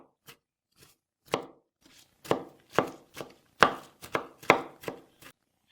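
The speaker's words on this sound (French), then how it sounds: "Je vais couper avec un peu de persil et une gousse d'ail. Je coupe grossièrement parce que je vais tout mixer." A knife roughly chopping artichoke stems with parsley and a garlic clove on a board: about a dozen crisp, irregular thuds, sparse at first and then quicker and louder, close up with silence between strokes.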